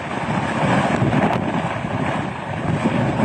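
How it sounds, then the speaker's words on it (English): Strong wind gusts near the Mississippi River, with gusts reaching almost 90 miles an hour, roar continuously and loudly across the microphone, buffeting it with a dense, unbroken rush. "I just want to show you the power of this wind right now."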